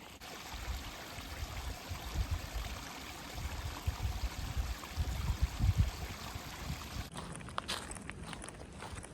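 A creek flows with a continuous watery rush along the Appalachian Trail near Hiawassee, Georgia, mixed with soft footsteps and rustling close by, ending in quieter handling noise.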